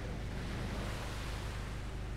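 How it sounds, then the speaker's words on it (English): Heard from out on open water, ocean waves wash and rumble in a steady, dense roar mixed with wind buffeting the microphone, with no voices over it. "And we got the waves again."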